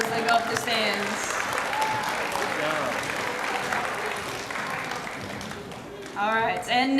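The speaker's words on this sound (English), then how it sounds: "One more round of applause as they go up the stands." A school crowd claps steadily for award winners at an 8th grade ceremony, dense even applause filling the room, with a voice breaking in near the end.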